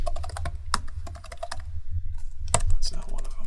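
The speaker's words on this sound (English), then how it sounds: "So you're just typing these in? Typing them in" Rapid clicking of computer keys as someone types entries into a chart, with soft voices speaking in the background.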